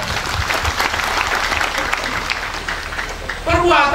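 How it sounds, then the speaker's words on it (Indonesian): A church congregation applauds in a steady, sustained wash of clapping, with a voice cutting in near the end. "Tepuk tangan untuk mereka."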